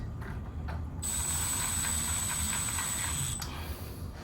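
Screws on a replacement door lock and deadbolt being tightened, giving a steady, close ratcheting whir of clicks that runs almost unbroken for several seconds.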